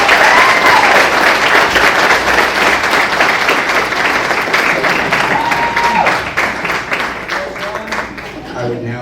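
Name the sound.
audience applause at an awards ceremony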